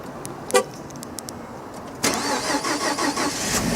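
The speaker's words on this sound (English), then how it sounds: "we'll do a cold start" A car engine cold-starting on what may be a new battery: a short burst of cranking, then the engine catches and runs with an uneven, surging roar, fairly close and loud with no talk.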